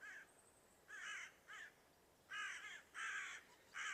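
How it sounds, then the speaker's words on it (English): Several crows caw in repeated bursts, some in quick pairs, at moderate distance against a quiet background. "The crows chasing"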